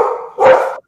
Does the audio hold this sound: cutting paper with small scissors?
no